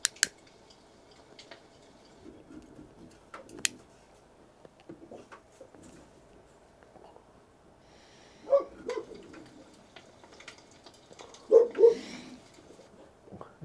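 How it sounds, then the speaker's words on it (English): A neighbor's dog barks somewhere off in the distance, a few short, faint, separate barks spread out over a quiet room background, with the loudest pair of barks near the end. "That's my neighbor's dog, Rocky."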